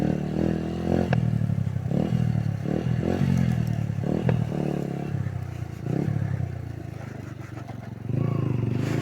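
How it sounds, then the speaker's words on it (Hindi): Modified Yamaha YBR motorcycle engine revving steadily up close, a continuous mechanical drone with several throttle blips and rising surges over about nine seconds, with no voices. "तो अगेन एक रन देंगे बाइक को हम।"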